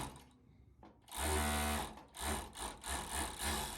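Sewing machine running in bursts as it stitches a corset seam closed, a steady mechanical whir starting after a quiet moment and pulsing on and off with short pauses.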